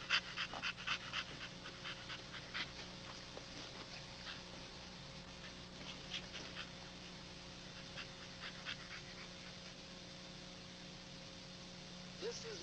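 Dogs in a breeding kennel yard give off scattered panting, whimpers and short yips against a steady background hum, fairly faint and continuous, with someone talking at moments.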